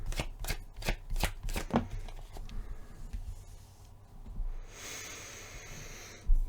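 Tarot cards are shuffled by hand with a run of quick riffling flutters, followed by softer sliding and the slap of a card being drawn and laid down, close and fairly quiet with no talking.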